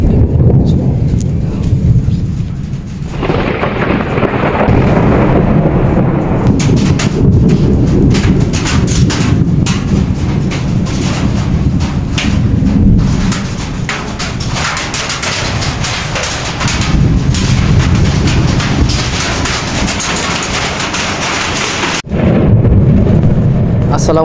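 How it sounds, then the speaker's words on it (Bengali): A heavy rainstorm with wind and thunder in Mecca gives a loud, continuous broadband roar of gusts and downpour with deep rumbling swells, and a voice at times under the storm. "একটু আগে থেকে মক্কায় প্রচুর পরিমাণ বৃষ্টি, বাতাস এবং সেই সাথে বজ্রপাত দেখতেছেন।"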